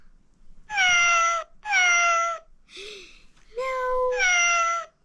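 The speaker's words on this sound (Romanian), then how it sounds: "Asta-i pisica, miau." A house cat meows several times in a row, clear and close, with long drawn-out calls separated by short pauses and one brief lower chirp in between.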